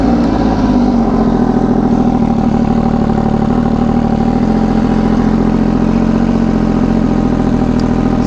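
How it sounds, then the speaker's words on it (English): An MV Agusta Superveloce with a triple-cylinder engine and SC Project exhaust idles steadily and loudly nearby, a constant throbbing drone that holds without revving. "Such a different tone because of the triple engine."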